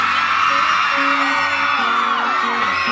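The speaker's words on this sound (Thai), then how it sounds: "ขอเสียงกรี๊ดดังๆหน่อยรอบนี้" A large crowd screams and cheers continuously at high pitch, loud and sustained, with faint music tones underneath, at a live music performance.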